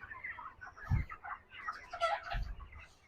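Broiler chickens on farm litter give a steady murmur of clucks and soft cackles, with a couple of dull low thumps among them, moderately close.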